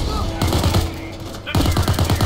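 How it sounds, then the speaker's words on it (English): Automatic turret machine gun fire in the video game PayDay 2, loud rapid bursts of rattling shots with a short gap between them, up close. "And the turret is here"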